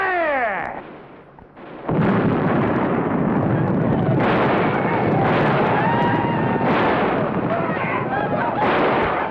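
Cannon fire from a riverboat, with a heavy blast swelling into a sustained rumbling roar amid wind noise and shouting voices, loud and close in an older television drama soundtrack.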